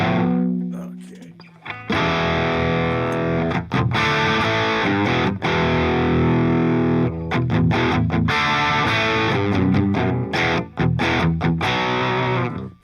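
An electric guitar through Amplitube 5's stock amp simulation plays loud distorted riffs with chugging chords and brief stops between phrases, close and dense throughout.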